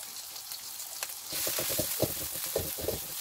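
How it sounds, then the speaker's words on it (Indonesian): Dried shrimp pounded smooth then sautéed with garlic in oil, a steady close sizzle with crackling pops rising after a quieter start, alone without talk. "Ebinya kita tumis sampai wangi ya"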